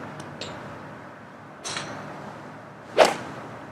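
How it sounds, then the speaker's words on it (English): A golfer swings a club at a golf ball: two faint swishes, then one sharp, close crack of impact near the end over a quiet background. "now you're ready to go ahead and hit that golf ball"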